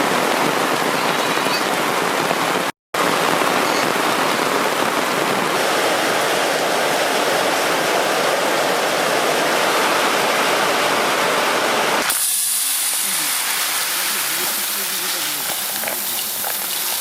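Steady rush of running water while rice is rinsed for a village-style ash gourd curry, a loud continuous broadband splash that briefly cuts out near the start and turns thinner and brighter toward the end.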